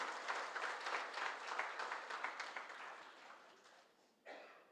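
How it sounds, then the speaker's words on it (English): Audience applause at the Tally Solutions MSME Honours 2023 event in Delhi, with steady clapping that gradually fades over several seconds before a brief renewed burst near the end. "So a round of applause once again for the Tally team."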